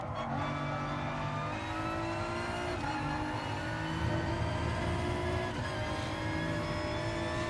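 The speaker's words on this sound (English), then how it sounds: "I just prefer the engine sound and everything on this car" A race car engine in Gran Turismo Sport, droning steadily at sustained high revs with smooth rising and falling pitch through a lap, heard alone without any talking.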